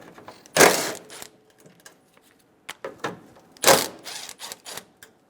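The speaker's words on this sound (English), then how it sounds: "remove the 2 bolts for the grille." A 10mm socket ratchet backs out the two grille bolts on a 2005-2015 Toyota Tacoma, giving sharp, close clicking bursts in two main clusters with scattered lighter ticks between them.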